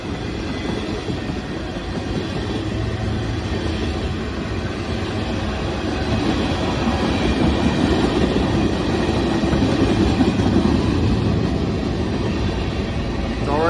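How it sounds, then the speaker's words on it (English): CSX freight train with gondola cars rolls past on a Pittsburgh line, a loud, steady, close rumble with continuous wheel and rail noise holding through the whole stretch. "Railgun. CSX gondola."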